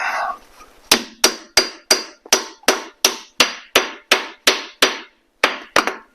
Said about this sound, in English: I'm going to need a hammer of some sort. Let's see if I can break it this way.